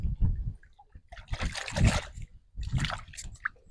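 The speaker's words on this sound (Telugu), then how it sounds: "సో ఫస్ట్ మనం వాష్ అయితే చేసేసుకుందాం వాటర్ మిలన్ ని" A yellow watermelon is washed under running water, giving uneven bursts of splashing, trickling and sloshing close by, with brief pauses between the pours and no speech.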